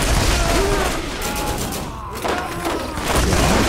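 Rifle gunfire in the video game Borderlands: dense, loud bursts of shots and booming impacts fill the clip almost without pause, dipping briefly near the middle before building again.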